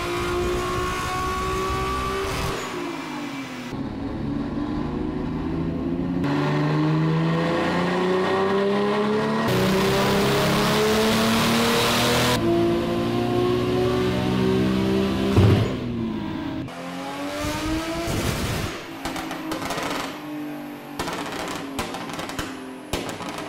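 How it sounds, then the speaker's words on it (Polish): Nissan GTR with a single turbo conversion under load, its engine roaring and climbing through repeated rising pulls with gear-change dips, loud and close throughout with no talk. "o wasze wrażenia dźwiękowe podczas pracy na obciążeniu Symfonia GTR-a na single turbo."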